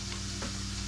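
Bacon sizzles and spits steadily in a frying pan while scalloped potatoes are being prepared, a close, continuous frying hiss with no talking over it.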